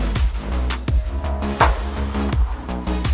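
Off-road vehicle exhaust at King of Hammers 2023, a loud, deep, burbling rumble with repeated throttle blips and pulsing surges, close by, with no talk over it.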